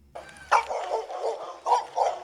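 A dog barks during a police encounter in Tennessee, several sharp close barks with short gaps between them, rising out of a quiet background.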